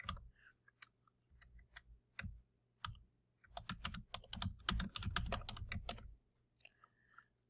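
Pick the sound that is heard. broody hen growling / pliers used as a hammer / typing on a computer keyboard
typing on a computer keyboard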